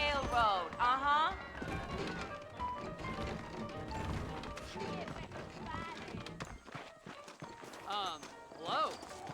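In Red Dead Redemption on Nintendo Switch, clip-clopping saddled horses' hooves trot along under scattered talking voices, with a brief horse whinny near the end.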